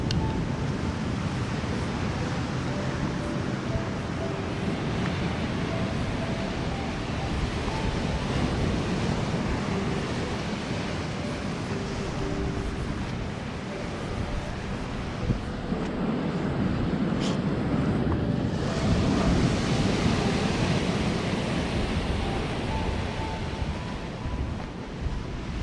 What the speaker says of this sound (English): You wouldn't want to swim in there, but it's a nice wee beach to look at